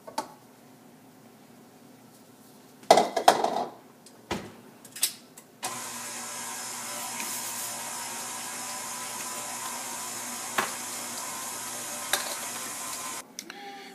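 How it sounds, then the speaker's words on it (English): A stand mixer fitted with a dough hook kneads pierogi dough, its motor holding a steady, fairly loud whir for several seconds after a few knocks and clunks. "I've switched out the paddle for a dough hook to continue to knead it"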